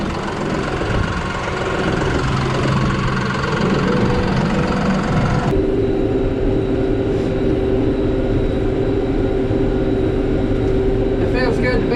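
A steady tractor engine drones throughout, loud and continuous, with a deeper idling rumble that shifts partway through, during corn planting at night.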